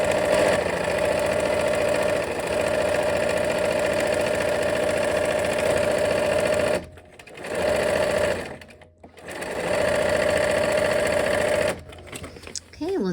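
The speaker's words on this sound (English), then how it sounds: "now we're gonna go ahead and sew a 1/4 inch from both sides of that line" A sewing machine runs steadily, stitching a quarter-inch seam on a quilt block. The motor hums loud and close in long runs, stopping briefly twice before starting again.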